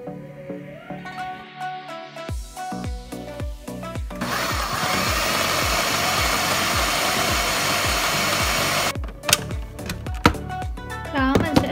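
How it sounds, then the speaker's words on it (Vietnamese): Lean pork being minced in an electric food grinder: a loud, steady motor whir that runs for several seconds, with clattering bursts at the start and end. "Đó, mình sẽ xay cái thịt này cho nó nát trước."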